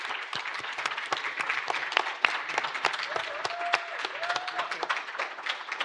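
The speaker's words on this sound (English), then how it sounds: "thank you for the applause" Audience applause fills a hall at a summit on beneficial AI, a steady wash of many hands clapping at moderate distance, with a few brief voices and tones rising over it.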